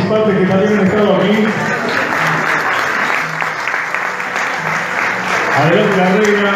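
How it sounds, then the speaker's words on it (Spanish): Loud, sustained applause at a queen coronation pageant, dense clapping from a large audience continuing throughout while music or voices play beneath. "le damos un fuerte aplauso también a las otras participantes que también han estado aquí"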